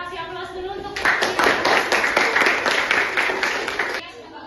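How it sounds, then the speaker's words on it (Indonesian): Classroom applause for a group of students: a brief voice, then about three seconds of lively, fairly close clapping from many hands that fades out at the end. "kasih aplaus dulu untuk"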